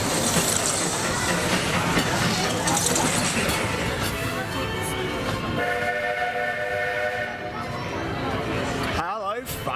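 The Disneyland Railroad train at Disneyland Paris rolls steadily along with a continuous close mechanical rumble, a brief whistle-like tone near the end, and talking over it.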